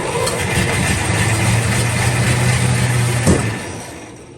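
The engine of a 1954 Fargo half ton truck with a rough-running engine, sprayed with brake cleaner in the intake, catches and runs with a loud steady rumble, then cuts out abruptly near the end.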